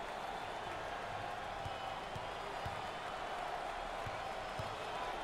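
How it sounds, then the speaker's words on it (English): A packed home crowd at an NCAA tournament basketball game between Boston and Dayton roars in a steady, dense wash of cheering, with a few faint thumps of a bouncing ball underneath. "Full house and a packed crowd, and they are into it tonight."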